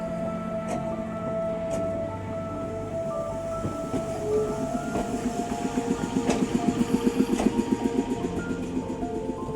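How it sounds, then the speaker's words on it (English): Two Class 701 electric train units depart Chingford station, their rumble building from a low hum into a rhythmic rolling clatter of wheels over rail joints as they pull away, loud and close. "It's time to watch these two fantastic units depart Chingford for the final time"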